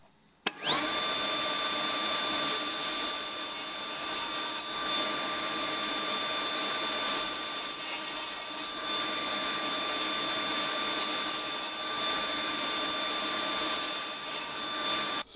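Table saw making a concealed cut with the riving knife set below the blade's highest tooth: the motor spins up abruptly and then holds a loud, steady high-pitched whine with a cutting rasp throughout.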